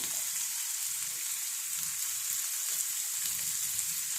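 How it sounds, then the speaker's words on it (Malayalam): Garlic and sliced onion sautéing in oil in a pan for a Kerala tapioca masala, a steady close-up sizzle with faint stirring underneath and no talking. "രണ്ട് മൂന്ന് കഷ്ണം വെളുത്തുള്ളി കൂടെ ചേർക്കാം ഇത് നല്ലപോലെ അങ്ങ് വഴച്ചെടുക്കണം"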